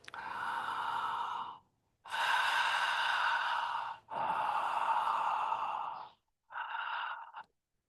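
Deep, slow breathwork: four long, strong breaths with brief pauses between them, close and clear against silence, with no talking.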